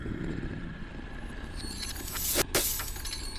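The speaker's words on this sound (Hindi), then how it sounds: "छन की आवाज के साथ टूटी और उसके साथ सफेद चमकदार जर्रे हवा में फैल गए।" A small glass vial shattering with a sharp crack and bright tinkling debris, brief and close, over low background noise.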